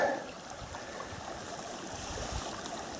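A river flows steadily with a soft, continuous watery rush. The sound is faint and even, with no voices.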